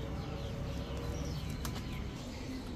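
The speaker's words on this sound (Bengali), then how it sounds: "এখন দেখাবো এক জোড়া ঝর্ণা শাটিং কবুতর।" A pair of Jhorna shatting pigeons coo softly and repeatedly, faint and low against a steady background hum.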